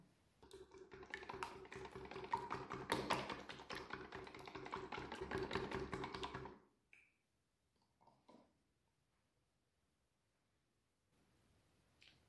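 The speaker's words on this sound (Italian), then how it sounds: "dobbiamo rompere 3 uova all'interno di un contenitore, le battiamo leggermente" Three eggs cracked into a container and lightly beaten for a cheesecake, heard as rapid close tapping and clicking for about six seconds, then a few sparse soft knocks.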